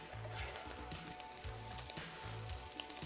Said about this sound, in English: they're going to start frying off with that beautiful oil that comes off the chorizo